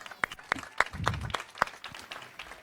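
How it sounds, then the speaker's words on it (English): At a high school commencement, a small audience claps in a sparse, evenly spaced run of distinct claps, a few sharp strikes near the microphone standing out against faint background murmur. "Let's give them a round of applause."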